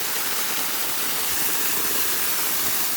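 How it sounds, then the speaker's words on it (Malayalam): Steady broadband rush of clear water cascading down a forest stream at Kodayar, loud and continuous with no breaks or voices. "നമുക്കതിൽ താഴേക്ക് ഇറങ്ങുന്ന വെള്ളം കണ്ടോ?"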